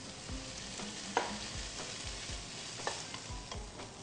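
Ginger and mushrooms sizzle in a hot pan with lime and balsamic vinegar, steady frying hiss under repeated scraping stirs and a few sharper clinks of the utensil against the pan, close and moderately loud.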